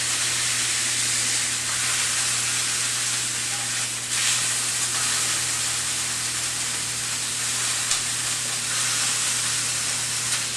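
Pork chops fry in a hot pot, giving a loud continuous sizzle and hiss that holds steady throughout with only slight swells, and no other sound over it.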